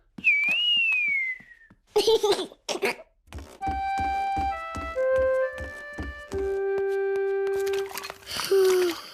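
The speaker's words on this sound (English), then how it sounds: "George can whistle." Someone whistles a sliding note, then a run of clear whistled tones forms a short melody, with thumps and a few breathy sounds between.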